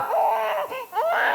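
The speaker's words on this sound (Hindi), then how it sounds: "बच्चा रो रहा है यार।" An infant cries in a single loud, wavering wail that dips briefly and then resumes, close and alone with no talking.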